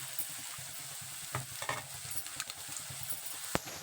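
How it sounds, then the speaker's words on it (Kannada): Tomatoes frying with onions in a pan, a steady sizzle close up with scraping stirs and a few sharper spoon knocks against the pan. "ಟೊಮೆಟೊ ಹಣ್ಣು ಹಾಕ್ಕೊಂಡು ಟೊಮೆಟೊ ಹಣ್ಣು ಸ್ವಲ್ಪ ಮೆತ್ತಗೆ ಹಂಗೆ ಹುರ್ಕೋಬೇಕು"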